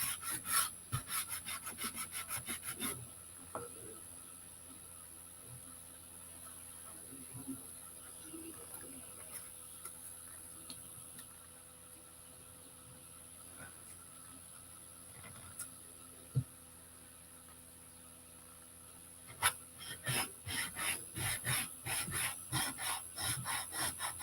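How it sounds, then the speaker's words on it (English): The edge of a craft piece being sanded by hand, with quick rhythmic rubbing strokes in short bursts at the start and end and faint scratching in between. "the edge right here, I'm going to sand it just to get the edges cut off there"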